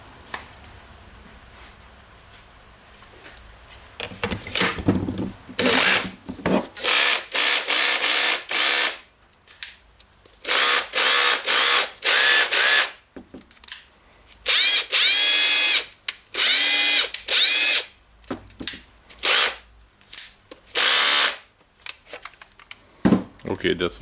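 A Makita BHR240 hammer drill, freshly fitted with a new armature, runs in loud bursts of motor whine, switched on and off repeatedly with short gaps between runs.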